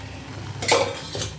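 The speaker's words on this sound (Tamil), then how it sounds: "தண்ணியை ஊற்றிடுவோம்." Water is poured into a pan while making a capsicum gravy, giving a brief splashing rush with a little metallic clatter of the pan, close and moderately loud, with no talking.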